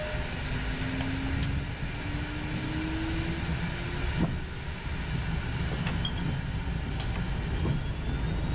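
A Learjet 60XR's engines spool toward takeoff thrust in the cockpit, heard as a steady broadband roar with a faint rising whine and occasional clicks, no talk over it.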